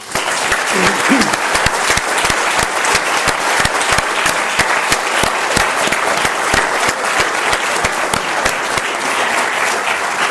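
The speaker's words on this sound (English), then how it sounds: "let's have a round of applause for the organizers" Audience applause for the organizers at a closing address, a dense, steady clapping from a large crowd that holds loud and even throughout.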